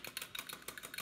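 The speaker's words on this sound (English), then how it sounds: "Whisking. I guess you could use a fork for this too if you don't have a whisk." Reconstituted egg crystals whisked in a bowl, making quick, even, scratchy strokes in a steady rhythm, faint and close.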